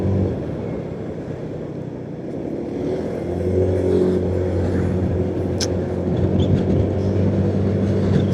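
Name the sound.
car passing on the road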